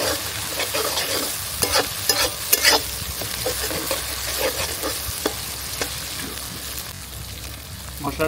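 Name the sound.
stirring garlic and chili paste masala in a pan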